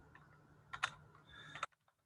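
Keystrokes on a computer keyboard while an essay is being written, a quiet scatter of clicks building into a short burst of rapid typing before stopping.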